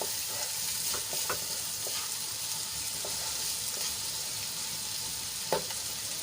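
Finely chopped onions sauté in a pan until pink, giving a steady, even sizzle with occasional soft scrapes and clicks from stirring, heard close and alone with no voices.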